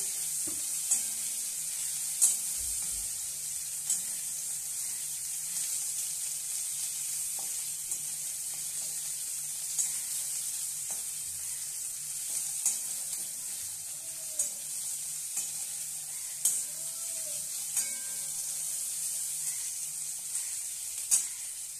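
Chopped onion fries in a pan with bottle gourd greens, giving a steady, fairly soft sizzling hiss throughout with a few faint utensil clicks and no voices.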